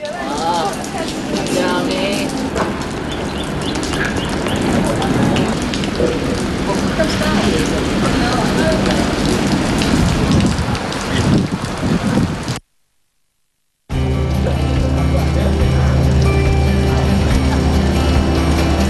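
Steady rain falls on a construction site, a dense continuous hiss with wind buffeting the microphone, then after a brief silent gap a second stretch of rain continues under a low tonal background.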